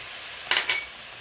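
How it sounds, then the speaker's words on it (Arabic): Garlic frying in a pan of oil for a Moroccan-style merguez tagine with olives, giving a faint steady sizzle and two short bursts of stirring in the pan close by. "نخلي الثوم تتقلى شويه هكذا"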